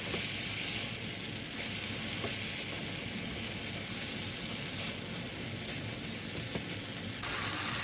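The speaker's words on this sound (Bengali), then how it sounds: "ভালোভাবে আমি নাড়াচাড়া করে দিচ্ছি" Eggs with tomatoes and spring onion sizzle loudly in a pan while being stirred, a dense continuous frying hiss with faint scraping throughout.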